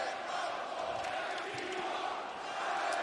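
A wrestling crowd in a Chicago arena roars and chants steadily, a dense wash of voices heard faintly at a distance for the whole stretch.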